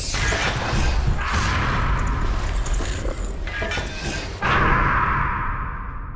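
A rattling boss fires a cannon in the dungeon game Legend of Grimrock 2, loud booming blasts and crashing rumbles filling the scene, with a final heavy hit near the end.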